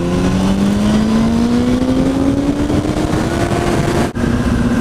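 A Honda Hornet motorcycle engine drones steadily while riding along a country road, its pitch climbing slowly under throttle, loud and close throughout, with a brief dip near the end; the clutch was beginning to struggle.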